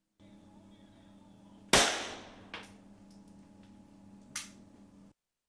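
Veterans of a special forces unit fire at a shooting range during anniversary practice: one loud sharp shot with a long decaying echo, then a fainter crack and a third medium shot a couple of seconds apart, with no talk.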